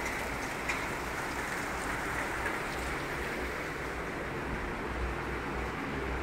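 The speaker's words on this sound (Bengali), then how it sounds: "জোরে বৃষ্টি হচ্ছে।" Heavy rain falling outside, a dense, steady broadband roar of downpour that holds evenly from start to finish with no voices.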